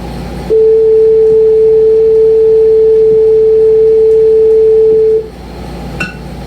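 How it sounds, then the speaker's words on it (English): A loud, steady electronic sine tone from the RCA Mark II synthesizer holds a single pitch for about five seconds, then cuts off, leaving quiet room noise. "I'll keep the frequency of the waveform the same, but increase its amplitude. As a result, the sound becomes louder."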